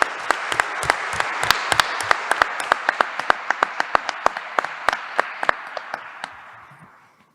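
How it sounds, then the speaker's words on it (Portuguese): A round of applause at an administrative council meeting after a unanimous budget approval, with a few sharp individual claps standing out over steady group clapping that fades out toward the end. "eu peço uma salva de palmas a todos nós."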